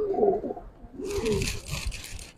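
Giribaz pigeons cooing inside a loft, a male and female pair, with two or three soft low rolling coos in succession and a brief burst of higher rustling noise partway through, fairly close.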